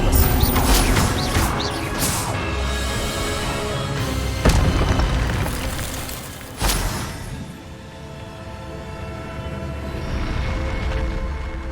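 An Expelliarmus spell is cast in Hogwarts Legacy, heard as loud magical blasts with booming crashes and mechanical rumbling. One sharp hit comes mid-clip and another thud follows soon after, then everything fades to a quieter hum.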